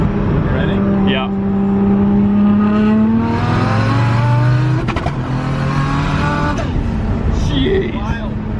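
A BMW E36 with a 1.5JZ engine accelerates hard through a no-lift shift, the loud engine note climbing, cutting briefly with a crackle, then pulling again, with people talking over it.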